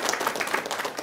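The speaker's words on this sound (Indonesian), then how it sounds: "Tepuk tangan untuk narasumber kita, Ustadz Ramli Syahri." Brief burst of studio audience clapping for a guest on an Islamic religious television program, brisk and fairly close, with no talking.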